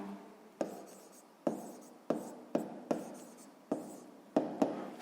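Chalk or pen taps and strokes out a sixth-grade maths equation, eight or so sharp, evenly spaced clicks each trailing into a brief scrape, close and clear with no talk.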